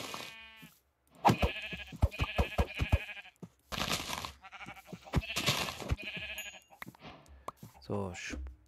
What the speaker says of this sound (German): Hier sind Schafe.